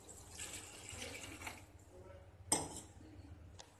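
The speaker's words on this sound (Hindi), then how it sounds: "अब हम इसमें डालेंगे थोड़ा सा पानी" A little water poured from a tap into a pan for making Maggi noodles with salt, turmeric and masala, a faint splashing fill with light metallic clinks and a sharp knock partway through.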